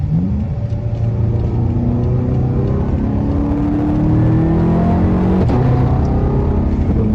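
A BMW M5 F10 accelerates to overtake, its engine rumbling and rising in pitch as it pulls harder, a continuous loud in-cabin drone with a short click near the end.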